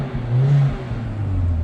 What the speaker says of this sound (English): give you a little sound of the exhaust